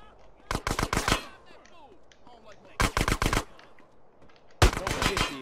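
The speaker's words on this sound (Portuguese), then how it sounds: "Estão atirando em mim?" Gang members firing automatic weapons in GTA San Andreas on PC, three separate bursts of rapid game gunfire, each a tight cluster of loud shots with quiet gaps between them.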